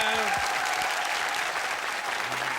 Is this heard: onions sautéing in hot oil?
no